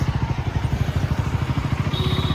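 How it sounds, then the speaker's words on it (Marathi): A motorcycle engine putters close by in a fast, even rhythm of low thumping pulses, running steadily throughout. "आपला मित्र बघा का बाईक चालवते"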